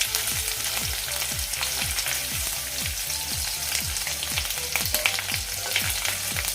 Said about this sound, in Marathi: एक दोन मिनटामध्ये ते मस्त खरपूस भाजले जातं